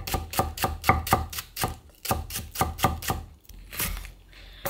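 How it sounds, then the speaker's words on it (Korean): A knife chops green onion on a cutting board in quick, even strikes, a rapid run of crisp taps with a short pause partway through, close and clear with no talking. "대파 총총총총 썰어주세요"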